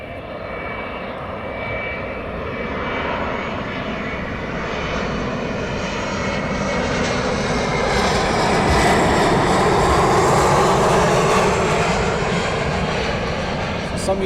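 An aircraft arriving at East Midlands Airport at night roars loudly and steadily, building slightly toward the end as it passes close by, with a broad continuous engine rumble throughout.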